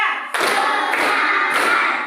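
Schoolchildren in a classroom in Batam clap in unison, three close, loud bursts of many hands spaced evenly about half a second apart.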